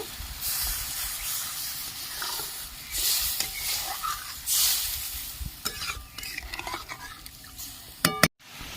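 Water poured into hot oil in a pan for a vegetarian cabbage curry, bursting into a loud hiss and sizzle that rises and falls in waves, with a few sharp clinks of utensils near the end.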